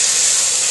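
Pot stickers steam in a covered pan after a splash of water, giving a loud, steady, bright hiss with no talking.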